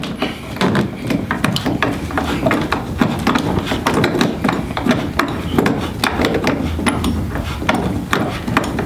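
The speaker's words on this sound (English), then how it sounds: "Put the second screw in." A drill driving a screw into a plastic kayak hull, a continuous close rattling whir with rapid ratchet-like clicks that holds steady from start to finish.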